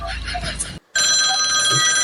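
A telephone rings in a comic domestic scene, a shrill electronic ringtone repeating loudly and close, briefly cut off, with voices talking over it.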